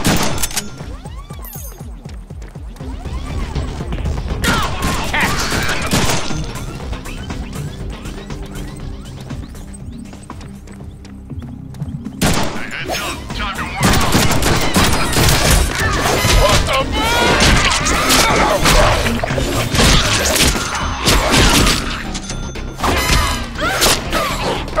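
Gunfire and crashing impacts from the Deadpool video game, loud dense bursts of shots, thuds and smashes running nearly throughout, with game music and character voices mixed in.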